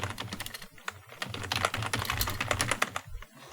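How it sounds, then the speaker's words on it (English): Commands are typed on a computer keyboard in quick, uneven bursts of close clicking keystrokes with short pauses, fairly quiet and with no voices. "what you type on the terminal and then hit enter, so it executes a command"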